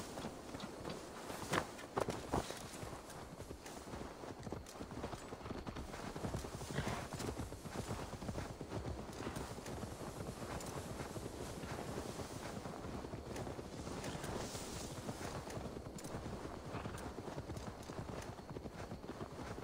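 Steady clip-clop of horse hooves walking at an even pace in the video game Assassin's Creed Valhalla, close and continuous, with a faint whinny and light wind in the background.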